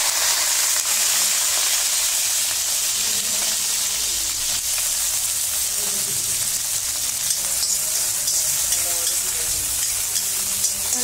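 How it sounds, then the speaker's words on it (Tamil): Onions sautéing in hot oil in a kadai for a Tamil-style prawn cauliflower gravy, a steady close sizzle with a bright hiss that holds evenly throughout with no talking. "வெங்காயத்தை நல்லா வதக்கிக்கலாம்"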